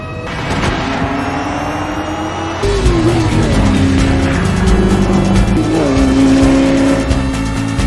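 A 1960s race car engine from the Ford v Ferrari film screams at redline, a loud sustained howl that shifts pitch and surges as the car accelerates, layered with dramatic film score.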